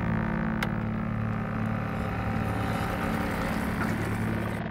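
A vessel passes at sea with a steady low engine drone and rushing water noise, droning on continuously without any talk.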